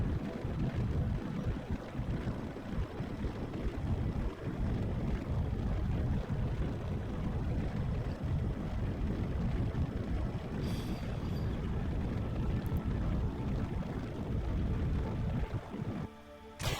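A rocket engine burns in the Kerbal Space Program game, a loud, dense, continuous roar that stays steady for the whole stretch and cuts off briefly near the end.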